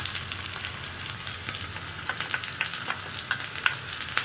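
Sliced onion rings fry in hot oil with popped mustard seeds for a parippu and raw banana curry, giving a steady close sizzle scattered with sharp crackles and pops and no talk.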